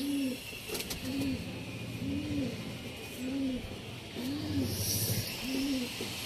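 Domestic pigeons coo in a steady series of six soft, rolling calls about one second apart, close by, over faint background noise with a brief burst of rustling near the start.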